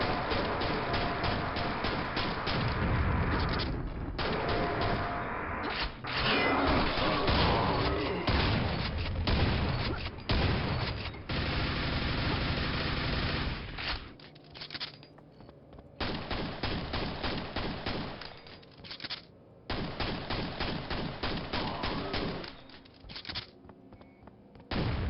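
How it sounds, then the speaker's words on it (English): Explosive canisters blasting through a wall in the Quake Brutalist Jam 3 map, heard amid a dense barrage of loud game gunfire and booms lasting throughout. "you blow up the canisters to get through the wall"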